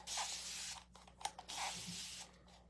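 Close hissing bursts of spray paint, a long spray, a short pause with a couple of clicks, then another long spray.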